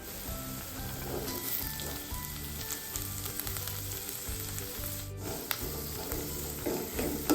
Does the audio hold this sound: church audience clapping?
no